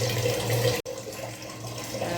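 Water running from a pipe tap in an Odisha home, a steady close rush that breaks off sharply for a split second and then carries on.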